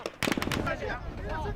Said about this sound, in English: Our escort is caught in a firefight.